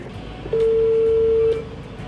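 A single steady telephone tone sounds for about a second while a call is placed to a brother, clear and moderately loud over a faint background hum.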